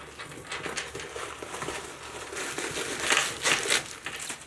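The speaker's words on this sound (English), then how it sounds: "I'm gonna take some of the stuffing out." Stuffing pulled out of a purse with a leather chain strap, giving soft, irregular crinkling and rustling close up, with a few louder crackles toward the end and no talking.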